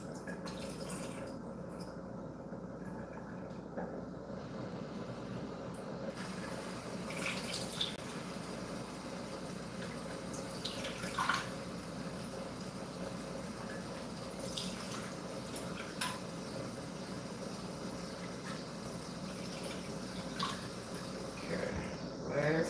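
Tap water runs steadily into a sink as blueberries are rinsed, a continuous close splashing wash with occasional drips and faint background noise throughout.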